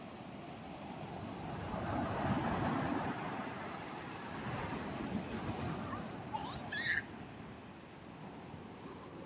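Sea waves washing on a shore on a hot day, a broad steady surf roar mixed with wind, with brief faint voices near the end.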